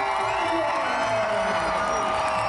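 Loud, dense cheering from a sold-out stadium crowd at a San Diego Wave FC women's professional soccer game, a continuous roar with whoops and shouts.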